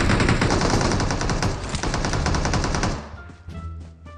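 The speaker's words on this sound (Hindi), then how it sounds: "आगे से गोली चलता है" Rapid automatic gunfire in the mobile battle game BGMI, a dense, loud burst of continuous shots for about three seconds, then cutting off to quieter game ambience.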